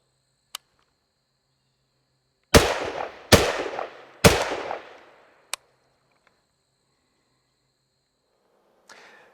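Three loud, sharp gunshots ring out at even intervals from an SBR rifle fired at a target 10 yards away, each with a short decaying echo, among faint clicks in otherwise quiet surroundings.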